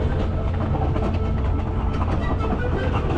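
A narrow gauge train runs on single track, giving a loud, steady rumble with rapid rhythmic clacking of wheels heard from on board.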